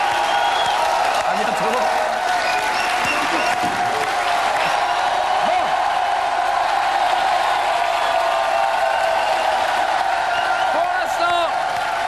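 Studio audience applause and cheering for Céline Dion on a French TV talk show, a dense steady roar of clapping and whoops lasting throughout, with a host speaking over it.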